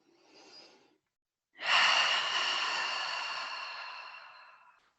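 A slow, audible exhale during a trauma-informed yoga session follows a short, softer inhale. The long breath out is close and steady, then fades away gradually, with no talking.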